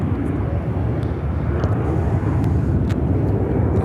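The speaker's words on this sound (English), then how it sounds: "This is United Airlines 2659 taking off to Washington Reagan National on the 737-700" A United Airlines Boeing 737-700 takes off at Chicago O'Hare, its broad, steady engine roar holding loud and constant throughout.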